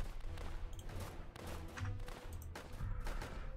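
Machine gun fire rattles in the World War tower defense game Northend, with dense overlapping bursts of gunfire and booms that keep going through the whole stretch.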